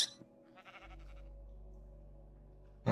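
Sheep bleating in Minecraft Bedrock, a short bleat near the start, then a steady low game hum and a sharp sound at the end.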